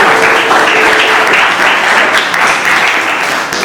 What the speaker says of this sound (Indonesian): tepuk tangan buat Albana kan?